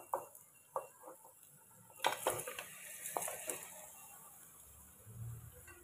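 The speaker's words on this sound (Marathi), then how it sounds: "त्याच्यामध्ये आता हे मटण टाकून घेते" Mutton drops into sautéed red masala in a pan, with scattered scraping and clinks of a utensil and a faint sizzle underneath, close but fairly quiet.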